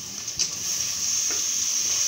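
Tomatoes hitting a pan of frying ginger and onion set off a steady, close sizzle, with a brief stirring clatter near the start and continuous hissing after.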